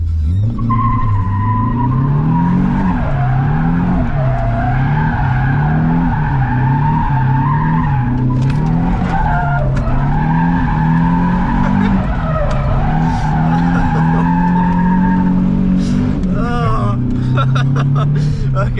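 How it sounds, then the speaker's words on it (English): A car with new brake pads skids under an e-brake test, its tyres squealing and scrubbing loudly over a continuous engine drone. Voices can be heard along with the noise. "So give us a little e-brake test."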